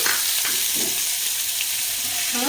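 Chopped onions fry in hot oil in a pan for a dhaba-style paneer curry, giving a continuous loud, close sizzle with faint stirring scrapes and no talk.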